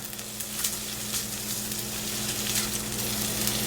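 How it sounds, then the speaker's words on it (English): Onion fries and is stirred in a pan, producing a steady, close sizzling hiss with a few soft stirring scrapes over a constant low hum, and no talking. "now we're going to put in our onion, and we're going to stir this around until it's tender"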